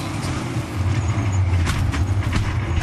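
Onboard sound from a NASCAR race car during a violent crash: a loud, steady engine drone with rumbling low-end and brief scraping bursts, heard close up with no talk.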